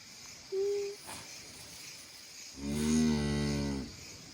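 A cow in labour, giving birth to a calf, lets out one long, deep moo close by after a brief higher-pitched call, with quiet farm ambience around.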